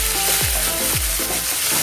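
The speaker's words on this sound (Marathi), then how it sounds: "मिरच्या थोडंसं परतवायच्या तेलामध्ये।" Green chillies frying in oil in a pan over low heat, a steady broadband sizzle with occasional stirring scrapes, close and continuous with no talking.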